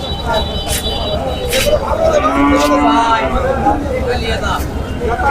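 A cow lets out a long, loud moo nearby at a cattle market in Tebaria, Natore, Bangladesh, over a background of people chattering.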